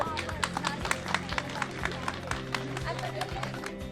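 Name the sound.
audience applause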